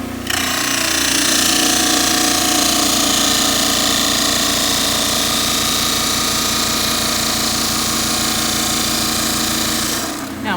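A dental model trimmer grinds an orthodontic plaster model, a loud, steady whirring with a fine rattle that runs unbroken for about ten seconds.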